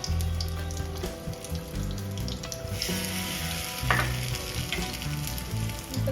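Brinjal slices coated in masala sizzle steadily in hot coconut oil in a pan, a close, continuous frying crackle with occasional stirring and spatula movement.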